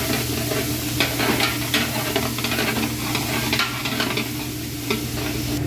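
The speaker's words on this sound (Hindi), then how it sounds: "उसके बाद इसको आराम से मिक्स करेंगे।" Garlic paste being stirred into a pot of mutton harira soup, a steady close sizzle and hiss with soft scraping strokes of the spoon running throughout, no voices.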